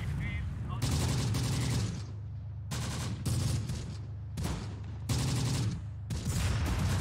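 .30 cal machine gun fire in the Close Combat: The Bloody First video game: several loud sustained bursts, each about a second long, separated by short pauses, with quiet talk between them.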